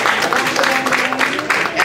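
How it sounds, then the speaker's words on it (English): An audience at a community meeting of tenant association officers breaks into applause, a short, loud burst of clapping with voices mixed in. "Give them a big round of applause."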